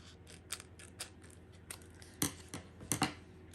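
Scissors cut down material for a leopard-print tumbler project in a quiet room, with a series of sharp, close snips arriving irregularly, some in quick pairs.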